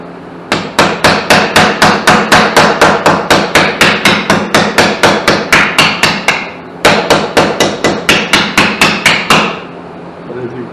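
Steady, loud hammer blows shaping a sheet-metal body panel over a tape-ended leather sandbag filled with sand, forming a curve for a trike conversion; two runs of rapid, evenly spaced strikes with a short pause between them.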